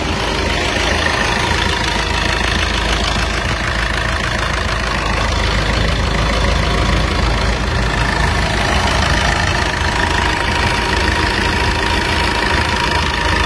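A 2016 Suzuki Ertiga diesel MPV engine idles in a steady, loud, close drone with a faint knocking rhythm, mixed with noise from nearby work.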